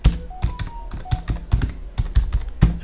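File name typed on a computer keyboard, a quick irregular run of close, crisp key clicks and thuds with short pauses between bursts, no talking.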